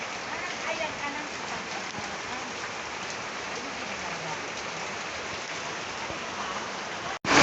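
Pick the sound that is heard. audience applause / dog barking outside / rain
rain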